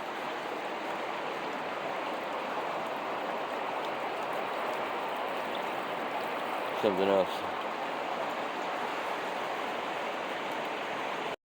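Fast-flowing river water rushes in a steady, dense, unbroken roar throughout, with a brief spoken phrase near the middle.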